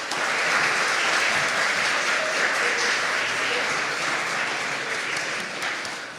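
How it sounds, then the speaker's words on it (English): Audience at a nursing department scholarship day colloquium gives a sustained round of applause for student groups, an even, distant wash of many hands that fades slightly near the end. "So let's give all three groups another round of applause."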